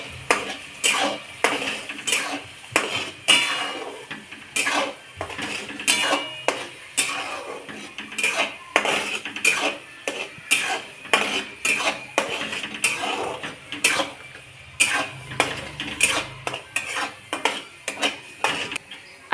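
A metal spoon stirs and scrapes chicken gravy with ground masala in a kadhai, giving steady, rhythmic clinks and scrapes against the pan that repeat closely throughout, with no talking.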